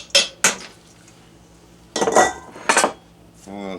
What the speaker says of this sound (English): we're going to take our 2 pounds of ground beef that has been browned, drained, rinsed, and drained, and throw that into our crock pot